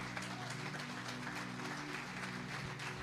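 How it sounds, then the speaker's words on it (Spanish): A church congregation applauds for Jesus, a dense, steady wash of many hands clapping together, heard from a slight distance and sustained without letting up. "¿Cuánto le dan un fuerte aplauso a Jesús?"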